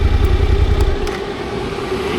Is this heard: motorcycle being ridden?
yes